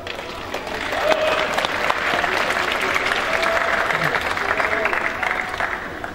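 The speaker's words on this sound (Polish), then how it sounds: "Wielkie brawa dla tego zespołu." A crowd at a local football tournament awards ceremony applauds the Osiedle Kolejowe team, clapping building quickly into a sustained, even roar while voices murmur and call out faintly underneath.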